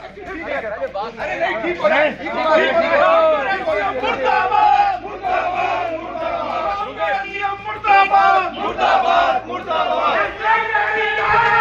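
A protest crowd chants slogans against the Ramgarh SDM, many loud voices shouting together in repeated rhythmic cries, with chatter mixed in throughout.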